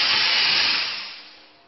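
Steam cleaner spraying the outside of a car, a loud close hiss that starts strong, holds briefly, then fades away over under two seconds with no talking.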